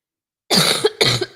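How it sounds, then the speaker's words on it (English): Two sharp, close coughs in quick succession, loud and abrupt after a moment of silence. "I'm coughing so hard now"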